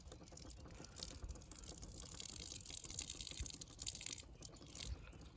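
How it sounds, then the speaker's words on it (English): Water trickling and splashing from a homemade hands-free water dispenser built from a pipe, a faint, irregular gurgling flow with soft drips and crackles, no talking. "So if I run the water now"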